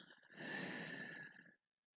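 A single deep exhalation during gentle yoga breathing practice, a soft, close, airy breath out lasting about a second and a half before falling to silence.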